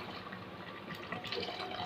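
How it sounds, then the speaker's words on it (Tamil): Hot water is poured onto rice for a mutton biryani in a pressure cooker, giving a short, steady splashing and filling sound, near and moderately quiet, with no speech. "தேவையான கொஞ்சம் ஹாட் வாட்டர் ஊற்றிக்கலாங்க,"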